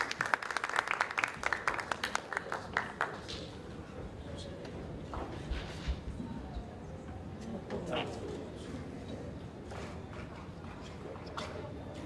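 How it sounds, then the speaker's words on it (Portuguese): A burst of clapping from a conference audience fades out after a few seconds, leaving quiet room noise with occasional murmurs and shuffling. "Por favor, vamos receber algumas salvas de palmas."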